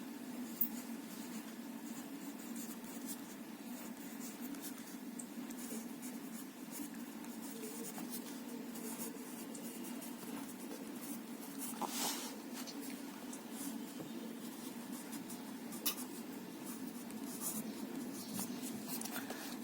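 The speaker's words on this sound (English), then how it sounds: "Now here we'll write topic name." Pencil writing a topic name on drawing paper in an art lesson, soft continuous scratchy strokes heard close and faint over a low room hum, with no talking.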